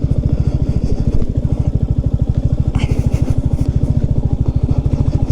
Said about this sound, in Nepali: ट्र्याक्टर